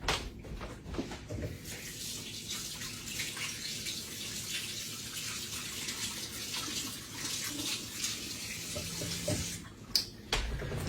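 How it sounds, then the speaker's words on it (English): A kitchen tap runs steadily as a hand is rinsed under it, a faint, even splashing hiss with small irregular shifts in the flow and a brief clunk near the end. "Let me rinse my hand off"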